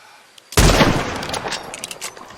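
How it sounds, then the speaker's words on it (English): Friendly fire in a video game erupts suddenly after a near-silent moment: a loud, close burst of gunfire that rolls on with a rumbling tail and scattered crackles. "me throwing some friendly fire at my friend there"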